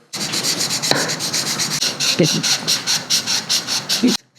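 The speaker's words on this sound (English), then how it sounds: "There's just a little bit of a gap, and I'm gonna take this sandpaper." Sandpaper of 400 grit rubbing back and forth over a seal on a chopper, a steady run of close, rhythmic scraping strokes that lasts throughout, with a couple of small knocks mixed in.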